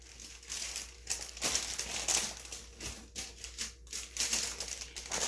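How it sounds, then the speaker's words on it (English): Plastic packaging crinkles close by in repeated bursts of rustling and crackling, with no talk over it. "sorry for the crinkling"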